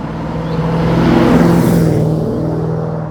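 A Mercedes 500 SEC from the 1980s cruising along with a steady, smooth engine drone and road roar heard from inside the car, loud and continuous with no voices.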